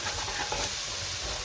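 Sweet paprika stirred into vegetables cooking in a pan for a French chicken fricassee gives a continuous close sizzle and hiss with faint stirring scrapes, and no voices.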